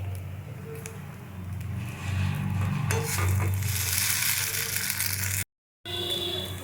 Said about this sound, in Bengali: দিয়ে আমি ভালো করে এটা নাড়াচাড়া করতে থাকবো